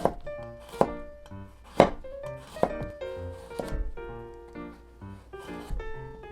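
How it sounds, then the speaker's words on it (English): A knife slices a carrot thinly on a cutting board, giving a series of crisp, close chopping thunks spaced irregularly, with faint background music. "Place the carrot on this flat surface so it doesn't move, then cut it into thin slices."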